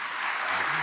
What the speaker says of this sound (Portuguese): vamos receber com palmas